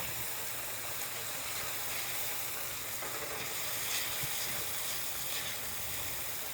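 Crushed tomatoes being stirred in a hot, sizzling pan for goulash, a dense, even frying hiss that holds steady throughout, with faint stirring scrapes and no speech.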